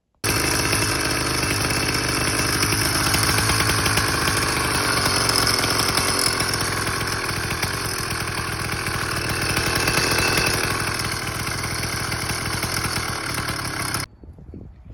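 A YD100 motorized bicycle engine with a Stage 1 CDI kit fires up and runs steadily for about fourteen seconds, a loud, buzzing two-stroke drone close by, then cuts off abruptly near the end.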